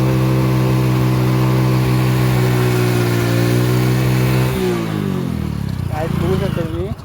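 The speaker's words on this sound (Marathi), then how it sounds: "भाई, अडकली यार, गाडी अडकली." An engine strains loudly as a car stuck while off-roading revs hard in a long sustained drone, then the pitch drops and wavers as it bogs down, with people talking excitedly close by.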